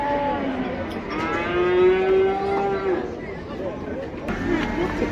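Cattle low with long, drawn-out moos at a livestock market, one loud close call standing out over a steady background of crowd chatter and other animals.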